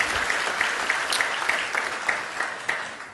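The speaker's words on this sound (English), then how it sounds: "I want to give the elected officials a round of applause." Applause at an economic summit rings through a large hall, many hands clapping with a few sharper individual claps standing out before the sound starts to taper off.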